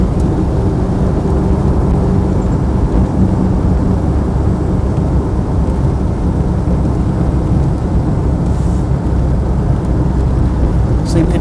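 A Land Rover 90 with the 2.5 turbo-diesel engine drives along steadily, its loud, continuous engine drone and road rumble filling the interior at a constant level with no pauses.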